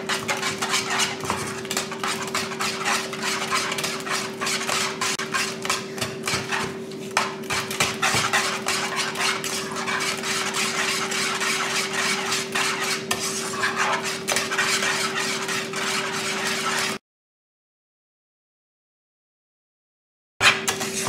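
Butter is whisked into hot pastry cream in a pot, a rapid, continuous metallic scraping and clinking of a whisk against the pan that runs for about seventeen seconds, then stops into silence.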